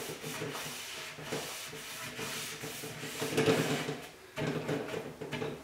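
Brush scrubbing wax onto painted furniture: steady close rubbing and swishing strokes, continuous and fairly soft, with slight rhythmic surges as the brush moves back and forth.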